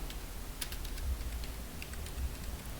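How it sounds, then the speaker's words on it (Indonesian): A command is typed on a computer keyboard, a quick run of close, light key clicks at an uneven rhythm over a soft background hiss. "Kemudian kita ketikkan reboot update."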